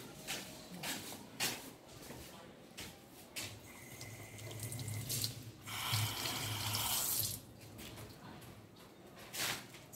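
Water from the municipal supply runs from a tap into a sink at home, a hissing splash that swells and fades in uneven bursts, close up, with faint voices in the background.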